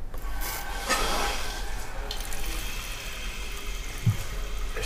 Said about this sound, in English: Toilet's all installed, bolted down, new water line, time to crank her up.